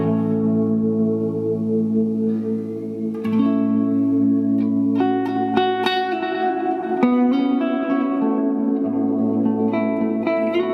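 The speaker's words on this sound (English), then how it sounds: "I really want the Big Sky, really want that, for lovely reverb." An electric guitar played through a Strymon Big Sky reverb pedal rings out in sustained chords and notes, each swelling into a long, lush, shimmering reverb tail, loud and alone.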